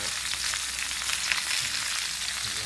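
Garlic and kale stir-frying in a pan with oyster sauce, a steady, close hiss of sizzling oil running unbroken throughout with no voices.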